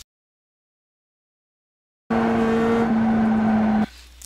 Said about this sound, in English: I just blip the throttle at the same time I downshift so it doesn't unsettle the car